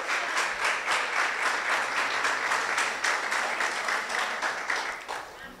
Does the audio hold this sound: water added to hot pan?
no